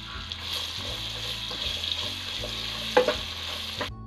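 Onions fry in oil for chicken kadai masala with a steady close sizzle and a couple of louder stirring knocks toward the end.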